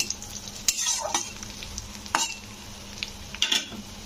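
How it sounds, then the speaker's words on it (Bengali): Cashews and raisins frying in ghee for semolina halwa, a soft steady sizzle punctuated by a few sharp scraping stirs of a spoon against the pan. "তো কাজু আর কিশমিশটাকে এইভাবে ভেজে নিতে হবে"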